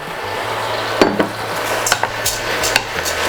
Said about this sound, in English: And now we are going to add in the rice